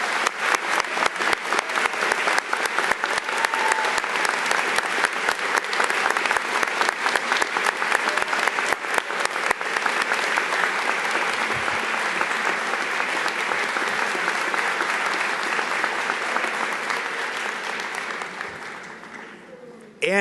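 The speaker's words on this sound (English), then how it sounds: "would everyone here please join with me in a round of applause for our amazing faculty" Sustained, loud applause from an audience honouring school faculty at an inauguration, steady dense clapping for about eighteen seconds before tapering off at the end.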